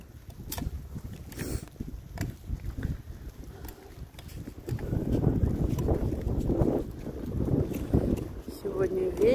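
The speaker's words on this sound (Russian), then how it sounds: "Сегодня ветер" Wind buffets a microphone outdoors on a windy day after rain, low rumbling gusts that rise and fall and grow stronger midway, with a voice speaking under the noise.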